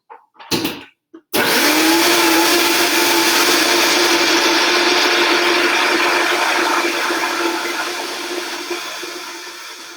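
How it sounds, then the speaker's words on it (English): A blender whirs at full power, making a smoothie after a couple of brief clicks as it starts; the loud, steady motor roar with a constant hum eases slightly toward the end. "all we're going to do now is pop the lid on and blend it"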